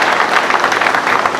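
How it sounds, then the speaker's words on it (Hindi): An audience at a police officer's talk claps loudly. The applause is dense and steady, filling the whole moment with no pause. "तो जोरदार ताली बजाओ"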